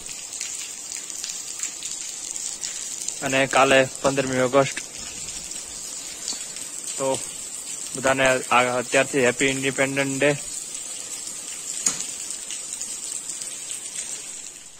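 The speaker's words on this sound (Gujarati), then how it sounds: "અત્યારે પણ ઘરે આવ્યા તો થોડી વારમાં જો વરસાદ કેવો ચાલુ થઈ ગયો જોરદાર" Heavy rain falls outside a house, a steady, even hiss running through the whole stretch while a person talks over it in a few short bursts.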